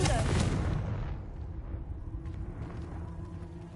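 A Confringo fire spell blast in Hogwarts Legacy on PS5, one loud booming burst at the start that fades into a rumbling tail.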